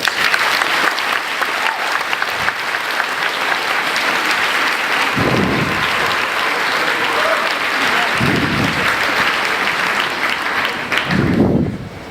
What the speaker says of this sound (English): I'd like to ask my classmates to give a round of applause for all our